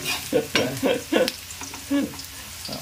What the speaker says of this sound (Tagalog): igigisa ang patata